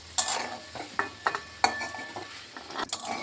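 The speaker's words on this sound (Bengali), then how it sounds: "এখন একটু নেড়ে ছেড়ে ভেজে নামিয়ে দিচ্ছি।" Boiled taro is stirred and fried in a pan, with a utensil scraping and clinking against the metal in sharp, irregular strokes over a low, steady sizzle of oil.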